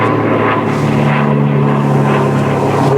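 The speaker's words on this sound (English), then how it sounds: "There's a noisy aeroplane." A noisy propeller aeroplane passing overhead during a winter countryside walk, a steady droning engine hum with low tonal bands that holds throughout, fairly loud and continuous with no talk.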